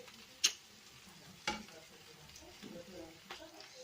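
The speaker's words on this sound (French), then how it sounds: "Je mets mes bouillons, je remue et on est reparti pour 10 minutes de cuisson à feu moyen." A spoon stirs leek and carrot fondue with broth in a pot over medium heat, giving faint, sparse scraping knocks and soft clicks against a quiet background.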